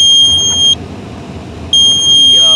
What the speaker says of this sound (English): That's the snow plow controller right here. It ain't connected, so it's gonna beep.